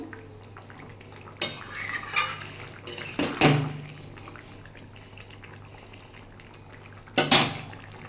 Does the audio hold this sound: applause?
no